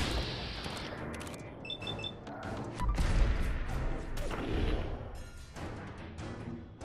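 Bursts of gunfire and crashing impacts from the video game Fallout 4, dense and rapid, with heavier booms around the middle and continuous clattering shots throughout.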